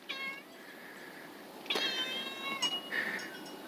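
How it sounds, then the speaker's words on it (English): A cat meows for attention several times, with drawn-out, fairly close cries that come one after another over a quiet background. "And you got the cat wanting attention."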